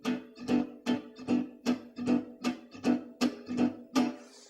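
Guitar strummed with steady upstrokes, about a dozen evenly spaced chords ringing out alone, fairly close and moderately loud.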